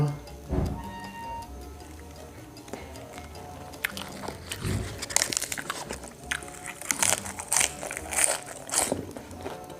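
Crunchy chewing of cos lettuce salad and grilled meatballs with tamarind dipping sauce, close and fairly loud, with irregular bites and a busier run of crunching in the second half; no talking.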